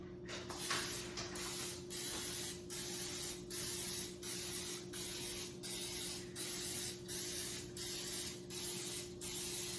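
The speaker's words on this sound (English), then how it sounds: "so now I'm just going to spray my pan" Rapid, evenly spaced hissing bursts from a spray can, a dozen or so short sprays in steady rhythm, close and fairly loud.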